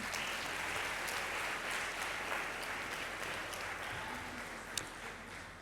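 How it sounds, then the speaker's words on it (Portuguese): Applause from a conference audience for a panel, a steady wash of many hands clapping continuously for several seconds, with a sharp isolated clap near the end. "Vou pedir uma salva de palmas para esse painel."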